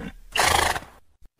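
A horse gives a single short, loud whinny. It rises sharply and then fades within about a second, with no other sound around it.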